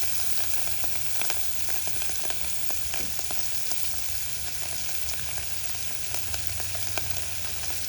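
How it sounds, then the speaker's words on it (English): Steady, dense sizzling of omena, small Kenyan fish, frying in plenty of hot oil, with occasional crackles and pops, continuous throughout and close by. "Now I'm going in with frying it."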